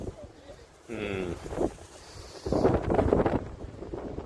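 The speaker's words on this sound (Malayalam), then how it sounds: "അരമണിക്കൂറാ നല്ല കാറ്റാണ് കേട്ടോ" Strong wind buffets and rumbles against the microphone at a seashore fishing spot in Vizhinjam while a person talks nearby.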